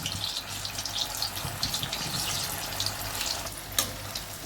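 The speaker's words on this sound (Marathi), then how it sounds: "तेल तापले, तेलमध्ये आपण भजी टाकून घेऊ" Spinach bhaji fritters frying in hot oil give a steady, crackling sizzle at close range with a brief louder pop near the end, no voices.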